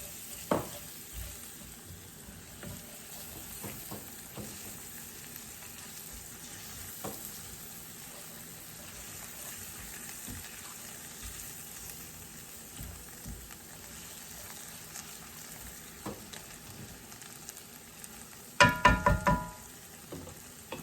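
A teaspoon of minced garlic sautés in a pan for Cajun-style shrimp and grits, giving a faint continuous sizzle with soft scattered stirring taps and a brief burst of louder clatter near the end.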